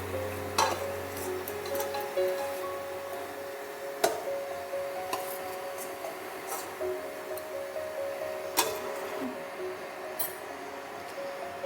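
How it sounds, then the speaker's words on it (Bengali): Ananda nadu sweets fry in hot oil with a soft, steady sizzle and bubbling, broken by occasional sharp ticks and small pops from the pan, no one speaking. "আমি এরকম করে সব তেলে দিয়ে ভেজে নেব।"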